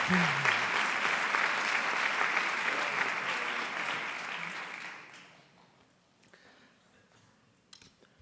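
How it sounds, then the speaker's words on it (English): Audience applause at a school PTA council banquet, a room of people clapping steadily that fades out after about five seconds into near quiet with a few scattered sounds. "can we have a round of applause for those people in absentia?"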